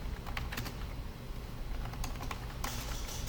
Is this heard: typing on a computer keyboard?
yes